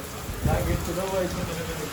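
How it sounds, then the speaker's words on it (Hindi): Heavy rain falls in Lahore as a steady hiss that fills the whole moment, with voices talking over it. "फुल बारिश हो रही है"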